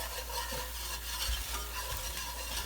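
Butter and onions cooking in a pan for creamed spinach give off a soft, steady sizzle, faint and continuous over a low background hum, with no voices.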